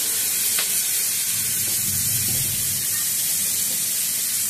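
Whole cumin seeds hit hot fish oil for a cabbage ghonto spice mix, giving a loud, even hiss of sizzling oil with a brief sharp spatter near the start and no speech.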